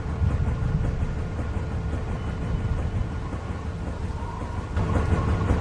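A thunderstorm rumbles steadily in The Walking Dead Season 2 video game, a dense low roar of wind and rain that runs loud and unbroken, swelling slightly near the end.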